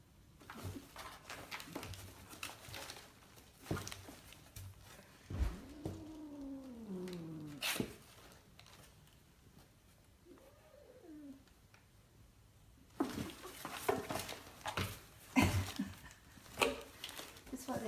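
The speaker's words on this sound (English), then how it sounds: "Party time in the kitty box." Cats play in a litter box at home, producing soft rustling and scratching with a few meows and chirps, while someone talks intermittently over them.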